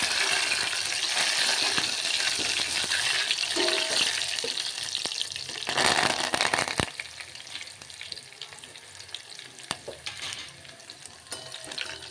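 Mustard seeds, cumin, fenugreek and curry leaves sizzle and crackle loudly in hot oil as a tempering for tomato pappu charu, with a stir partway through, after which the frying settles into a softer hiss.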